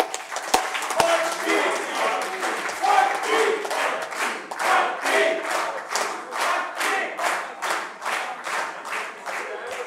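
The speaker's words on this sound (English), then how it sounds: "I request everyone to clap with me 3 times and shout 40 as loud" A reunion crowd claps rhythmically in unison and shouts together, repeated rounds of loud group claps and chants pulsing steadily over about ten seconds.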